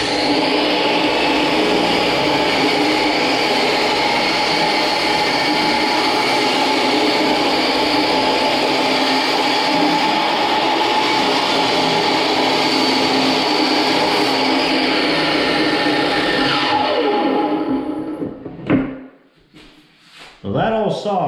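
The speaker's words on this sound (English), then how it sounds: "saw makes a pretty nice cut" A power saw cuts steadily through a wooden stair tread, a loud, continuous whining roar that holds for about seventeen seconds before it winds down and stops, with a few clatters after.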